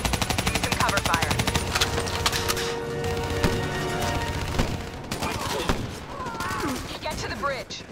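Automatic rifles rattle in rapid, dense bursts during a rescue firefight in Ethiopia in Call of Duty Black Ops 3, loud and close, with voices heard among the shots.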